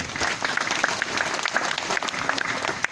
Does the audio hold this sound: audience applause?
yes